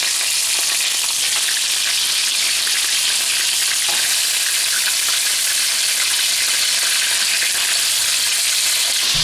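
Tomatoes fry in a pan after scallions, giving a loud, dense, continuous sizzle that stays steady throughout at close range.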